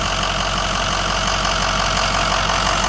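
A 2007 Ford F-450 crane truck's Power Stroke turbo diesel idles with a steady, loud, even rumble and a faint ticking knock, running continuously with no talk.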